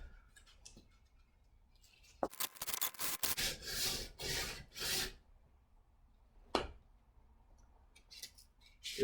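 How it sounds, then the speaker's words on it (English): A knife blade with a 40 grit finish is sanded by hand with 100 grit sandpaper, giving a cluster of loud, close rasping strokes, then quiet and a single later scrape. "It would seem that a 40 grit finish isn't friendly to 100 grit sandpaper."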